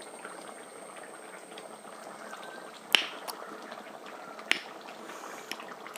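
Fish curry gravy simmering and thickening in a pan, a soft steady bubbling with a few sharp pops and spits standing out over a quiet background.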